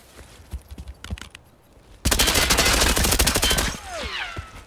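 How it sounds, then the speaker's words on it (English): Gunfire in Escape From Tarkov: a few scattered single shots are followed by a loud, sustained burst of rapid fire. As it fades, whistling and whining game sounds take over. "Someone's behind me shooting at me too."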